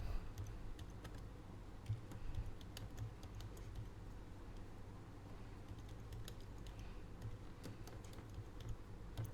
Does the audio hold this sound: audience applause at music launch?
no